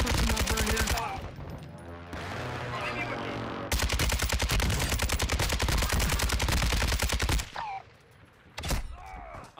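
Sustained automatic gunfire in a shooter video game, loud and close, with long rapid bursts broken by brief pauses and a few scattered shots near the end.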